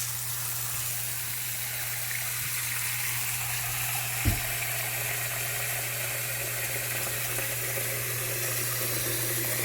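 Hot water runs from a Pfister faucet into a sink as a steady, even hiss of flowing water that lasts throughout, with no talking.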